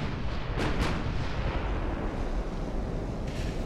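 Heavy battleship guns fire shells in the naval video game Ultimate Admiral: Dreadnoughts, a dense, rumbling barrage with two sharp booms near the start over a continuous low roar.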